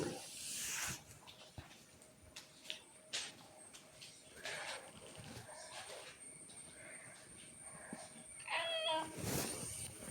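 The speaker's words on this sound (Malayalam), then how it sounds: "അതാണ് ഇടയ്ക്ക് നിങ്ങൾ പൂച്ച കരയുന്ന ശബ്ദം കേൾക്കുന്നത്" A cat meows a few times at moderate distance, short rising cries standing out against quiet room noise.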